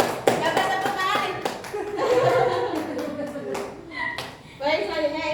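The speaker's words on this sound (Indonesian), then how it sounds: "Dapat tepuk tangan." Classroom applause from students, ragged clapping at moderate loudness mixed with children's chatter and a little chuckling, voices rising over the claps toward the end.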